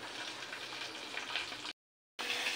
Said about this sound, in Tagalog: Nalinis ko na yung isda, so magpiprito lang ako ng ilang piraso